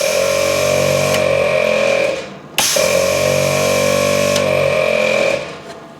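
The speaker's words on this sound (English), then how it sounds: "ARB compressor works" An ARB air compressor runs with a steady mechanical drone and a high whine, powered straight from a battery. It cuts off briefly partway through, restarts, then winds down near the end.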